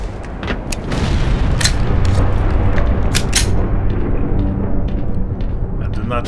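Loud, rumbling explosions in the game Black Mesa, with sharp bursts layered over a continuous roar, fading slightly toward the end.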